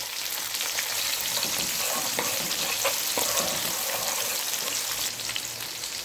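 Chopped green onions and garlic fry in half a cup of hot cooking oil, giving a steady, dense sizzle with occasional stirring scrapes, close and loud, no voices.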